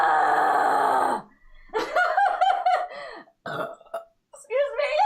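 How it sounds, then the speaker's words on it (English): Loud, close burps after drinking porter and ale, one long drawn-out belch followed by a series of shorter gurgling belches with brief gaps between them. "All the burps."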